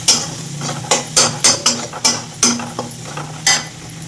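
Chilli powder, cumin powder and garam masala are stirred in a frying pan, giving a series of sharp scraping strokes about every half second over a low, steady sizzle.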